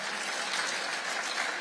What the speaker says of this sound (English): Give this panel and this group a round of applause.